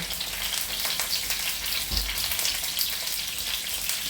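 Curry leaves drop into hot oil in a home kitchen, giving a dense, continuous crackling sizzle with one soft thump partway through, close up and without talk.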